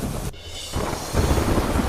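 Heavy rain roars steadily with a deep rumble of thunder underneath, the downpour swelling louder toward the end.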